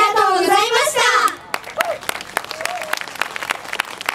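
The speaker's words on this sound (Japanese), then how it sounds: "皆様今一度大きな拍手をお願いいたします" An audience at a 2014 Sanfrecce Ladies event applauds the SPL∞ASH performers: a tonal, voice-like sound fades out after about a second, then a dense, steady wash of clapping carries on to the end.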